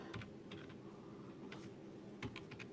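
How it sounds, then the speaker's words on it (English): Typing on a computer keyboard during an AI software setup, soft close key clicks in short irregular bursts, quiet and without speech. "So I will type here"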